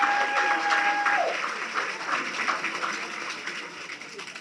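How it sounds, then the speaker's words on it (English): Graduation crowd of friends and family claps in a sustained round of applause, strongest at first and gradually thinning as the clapping trails off. "Turn around, give them a round of applause."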